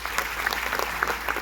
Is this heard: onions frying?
no